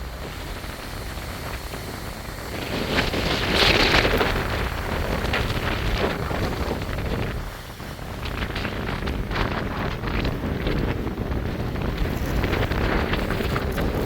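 Strong, gusty wind during a summer thunderstorm roars steadily across the microphone, surging louder and easing off in uneven waves for about fourteen seconds with no voices.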